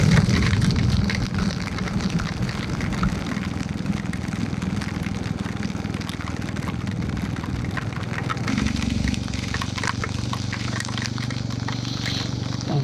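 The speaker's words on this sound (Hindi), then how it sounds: "उम्मीद थी कि टनल के आसपास बारिश नहीं होगी, लेकिन अनफॉर्चुनेटली यहाँ पे भी हो रही है।" Rain falling around a tunnel during a Royal Enfield Bullet road trip from Phagwara to Srinagar, a steady broadband wash layered over the low rumble of the bike's engine and wind, continuous throughout with no pauses.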